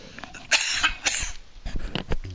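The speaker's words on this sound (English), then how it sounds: "Excuse me, I got a cough here" A person coughs several times in quick, harsh bursts, close and fairly loud, with a bit of throat clearing between the fits and no speech.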